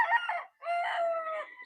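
A gamefowl stag on a game farm in the Philippines, among white roosters, gives a loud close crow in two drawn-out strained phrases split by a brief gap.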